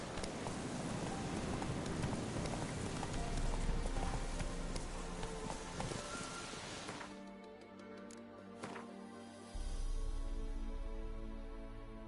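Hooves of the horse Roach clip-clop at a steady gallop in a video game, loud and close, with a brief lull before the galloping picks up again.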